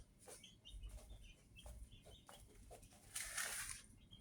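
Chickens cluck as they eat at a farm, several short soft clucks scattered through the clip with a brief burst of louder scratchy noise near the end; no one speaks.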